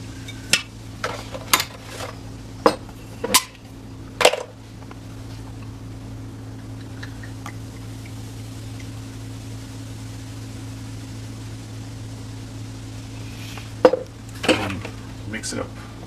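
Beer batter for catfish is mixed in a bowl: scattered sharp clinks and taps of a utensil against the bowl, in two clusters, over a steady low background hum.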